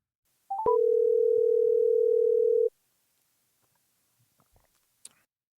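A telephone dial tone while a call is placed: a few short tones, then one steady sustained tone for about two seconds, clear and alone, followed by faint clicks and handling noise.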